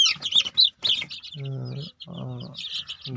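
Close, high-pitched cheeping of young Sonali chicks, 28 days old, in quick bursts, mixed with a few lower clucking calls from nearby birds.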